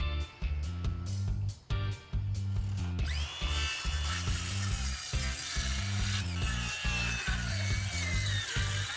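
A circular saw and then a jigsaw cut a wooden deck chair armrest of 2x6 lumber, bringing a loud, near motor whine with rough chattering cutting noise that runs almost without a break and has brief pauses near the start, with no voices.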